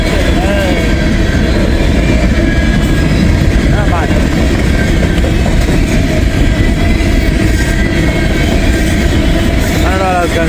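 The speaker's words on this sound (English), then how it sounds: "Got a grain train here, empty. Going back to get more grain." An empty CSX grain train rumbles past close by, a loud, steady roar of rolling railcars with rhythmic wheel clatter and occasional squeals, continuous throughout.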